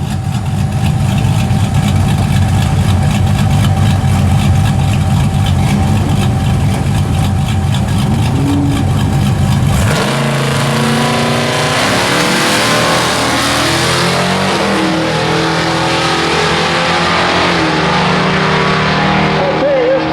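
A Ford pickup drag truck powered by a late-model Ford engine revs loudly at the strip for about ten seconds, then cuts to a rougher, broadband roar as it launches. Voices talk over the engine noise.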